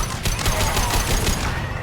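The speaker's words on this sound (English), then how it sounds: "Firing a high Okay. impact shot!" A high-impact shot bursts out in Mass Effect 2, a loud, dense blast of gunfire that holds steady for about two seconds and then fades slightly toward the end.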